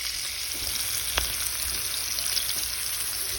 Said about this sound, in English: I got my salmon simmering in some butter and a little bit of olive oil